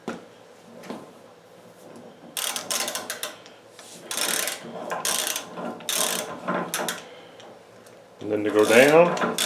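An arbor press fitted with an upgraded ratchet handle clicks and clanks through several bursts of operation, with metallic ratcheting rattles at close range and a louder grinding stretch at the end.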